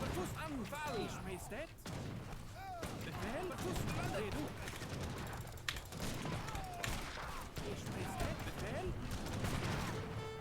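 Musket volleys from Age of Empires III battles pop and crack in a steady, busy stream of overlapping shots, mixed with artillery booms and unit voices, mid-level in loudness throughout.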